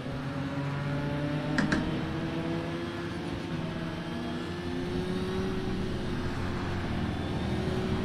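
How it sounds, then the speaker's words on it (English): Racing cars pass by in a VR sim racing game, a steady layered engine drone with rising and falling tones as vehicles sweep past, continuous and fairly loud with no talk. "Let some cars pass, watch them go by."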